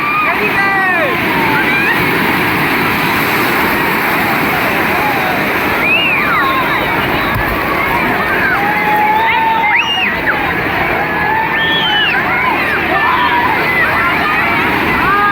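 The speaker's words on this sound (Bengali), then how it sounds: "বিরাট বড় ঢেউ আসছে।" Big sea waves break at Digha beach in a loud, steady roar of surf that runs without pause, with voices and crowd chatter carrying over the wash of water.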